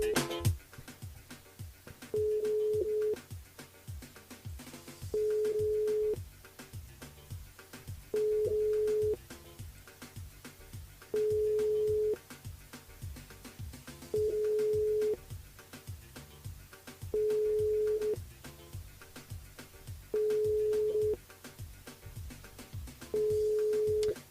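An unanswered telephone call during a live radio broadcast, heard as a steady tone in regular beeps about once every three seconds, repeating for the whole stretch over low background noise.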